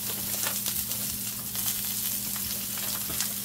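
Sliced peppers seasoned with all-purpose seasoning sauté in a pan with a continuous close sizzle and crackle, occasional stirring scrapes breaking through, no talking.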